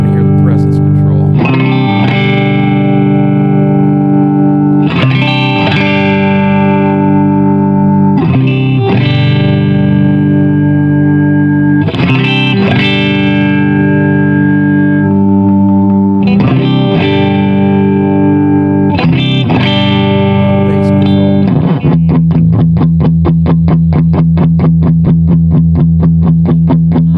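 Distorted electric guitar chords ring out through a Granville Super Chief tube amplifier in repeated strummed phrases, ending with fast tremolo-picked notes; loud and sustained.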